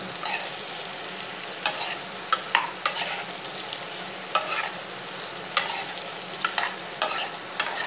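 Whole bitter gourds frying in hot oil in a pan for a tamarind curry, a continuous soft sizzle broken by sharp scraping clicks of a spoon stirring at irregular intervals, close and quiet with no voices.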